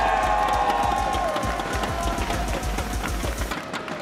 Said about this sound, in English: let's hear it for Repotted!